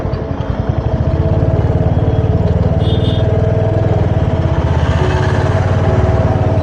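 A motorcycle rides across a bridge over the Hooghly River, its engine a close, continuous droning pulse with steady road and wind rumble and no pauses.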